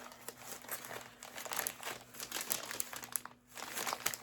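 Close, busy crinkling and rustling of wrapping paper as a Christmas present is torn open, an irregular stream of crackles with a brief pause near the end before the crumpling resumes.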